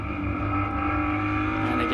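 A race car engine in a racing video game drones steadily and loudly as the car accelerates out of a corner, with a smooth continuous tone and no break.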